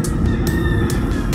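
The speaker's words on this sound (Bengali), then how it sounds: "মুরগির আওয়াজ" Chickens call near a roadside stop at Murti in the Dooars hills, with brief sharp calls rising over a loud, steady outdoor rumble.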